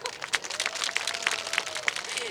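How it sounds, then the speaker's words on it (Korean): An audience applauding at a Gyeongsan jujube festival concert: scattered clapping with distinct sharp claps, fairly faint and distant, with light crowd murmur. "박수 주세요."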